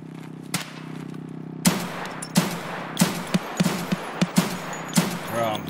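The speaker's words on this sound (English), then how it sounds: "Someone's on my right shooting at me." Gunfire in the video game Escape from Tarkov during a squad raid, a run of sharp shots arriving in irregular bursts over a steady low hum, the reports fairly close and punchy.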